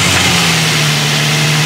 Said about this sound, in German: Ich starte ihn einmal für euch.